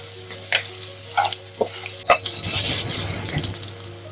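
Boiled elephant foot yam pieces tip into a hot pan in a few soft thuds around one second in, then a steady bright sizzle and stirring rise and carry on to the end, close and fairly loud, with no talk.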